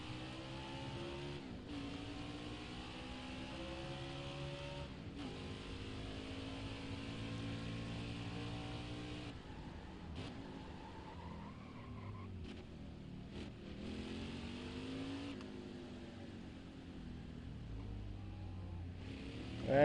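Race car engine in NASCAR Heat 5 Xfinity racing at the Brickyard, a continuous high revving drone with gear shifts and pitch rises and falls, steady and loud throughout with no talking.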